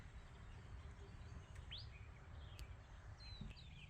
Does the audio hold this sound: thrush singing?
yes